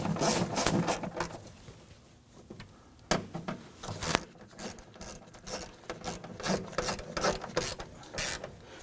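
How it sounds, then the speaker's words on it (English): Ratchet tightening speaker screws inside a 2008-2011 Ford Focus front door, bursts of quick clicking ratchet strokes alternating with pauses, near and moderately loud, with occasional metallic knocks. "Once those screws bottom out, snug them down."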